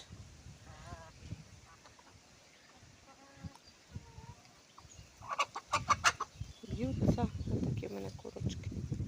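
Chickens cluck and call in a rural farmyard, a few soft clucks early on, then louder, busier clucking toward the end, with a person talking nearby.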